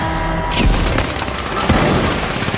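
A grenade explosion in The Finals, a booming blast followed by crashing, debris-like rumble, loud and close amid ongoing game noise.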